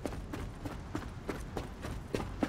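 Footsteps of a character crunching across snowy, icy terrain on the microTech planet in Star Citizen, a steady walking rhythm of soft thuds, close and moderately loud, with no one speaking.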